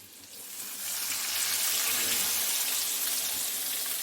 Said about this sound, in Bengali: জলটা দিয়ে দিচ্ছি মশলা যা লেগে আছে বাকিটা দিয়ে আমি দিয়ে দিচ্ছি